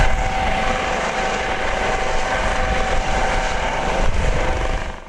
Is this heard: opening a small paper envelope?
no